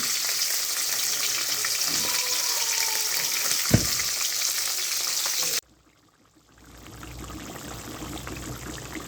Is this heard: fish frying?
yes